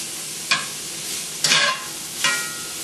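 Chopped onion fries in olive oil in a pan that just cooked hamburger, a steady close sizzle broken by three scraping stirs spaced about a second apart.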